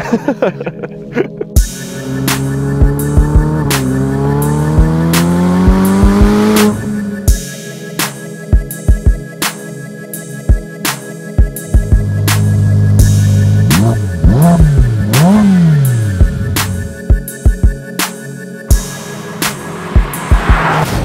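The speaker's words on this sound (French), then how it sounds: "nous allons faire glisser cette F8" A Ferrari F8 Tributo drifts during a private drift lesson, its engine revving hard in rising and falling sweeps, punctuated by sharp bursts and tire noise, loud and close throughout.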